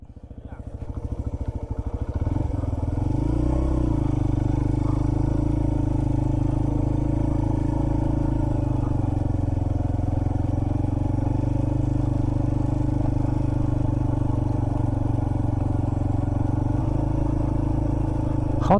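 A motorcycle engine idles and runs steadily up close, a loud continuous drone with some rattling as it starts.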